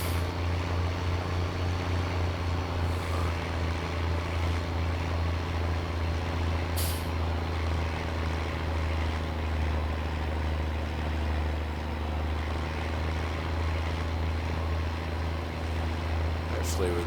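A tractor in Farming Simulator 19 labours up a small incline, its engine a steady, loud low drone that holds throughout with faint higher whines on top.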